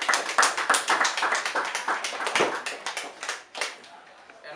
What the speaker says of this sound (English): I think we can do some applause for him